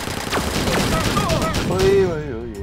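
Gunfire from a gun in Space Marshals 2 comes as a loud, close fusillade of rapid shots mixed with sci-fi whooshes and tones, with a voice talking over it.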